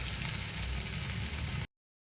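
Red pumpkin bhaji sautéing in a pan, a steady soft sizzle and frying hiss that cuts off abruptly after under two seconds.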